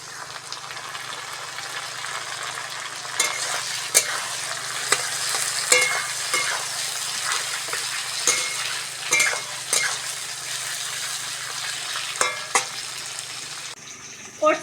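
Tomatoes and green chillies sizzle with fried onions in a pan, a steady frying hiss broken by scattered clinks and scrapes of a spoon stirring, with a louder clatter near the end.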